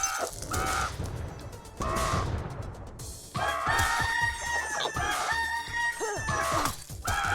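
Rooster crowing in a video game, several loud cock-a-doodle-doo calls and clucks in quick succession over game sounds, with no speech.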